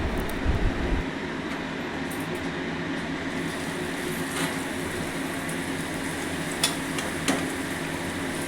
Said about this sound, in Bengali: লুচি ভাজা আমার কমপ্লিট